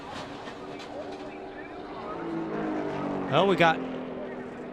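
NASCAR race cars cross the line at the 2020 Busch Clash, their engines droning at a distance before one roars past loudly near the end, under an excited commentator's voice.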